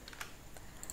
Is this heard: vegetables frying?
no